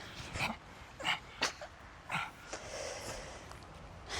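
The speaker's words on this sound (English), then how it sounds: "The dog is just going crazy. This is what he's barking at." A dog indoors at a holiday lodge in Dorset gives a series of close, sharp snorts and short huffing yips in irregular bursts, with quiet pauses in between.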